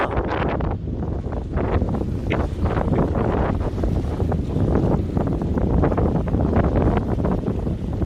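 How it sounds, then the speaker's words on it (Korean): Strong wind buffets a boat during lure fishing for rockfish at sea in midwinter, loud gusty microphone roar with rushing water and hull noise throughout and no talking. "제가 이거 바람 6 힘들다고 했죠"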